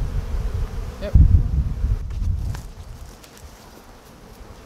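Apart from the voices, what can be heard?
bees buzzing around a hive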